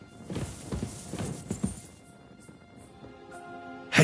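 Quick clip-clop of horse hooves in Kingdom Come Deliverance, a medieval video game, close and rhythmic for two seconds before fading into a quieter tail with a faint tonal hum and a brief loud knock at the end.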